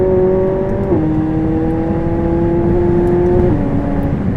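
A 2016 McLaren 675LT engine revving hard as it shifts up through the gears, a loud, sustained tonal roar whose pitch steps down at each quick upshift, heard alone with no talk.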